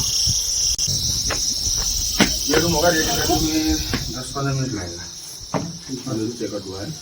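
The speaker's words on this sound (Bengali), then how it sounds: "ঝিঝি পোকার ডাক" Crickets chirp in a steady high-pitched drone in a quiet hill village, continuous beneath nearby conversation with people talking throughout.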